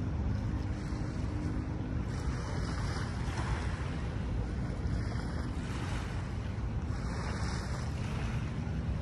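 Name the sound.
gentle sea waves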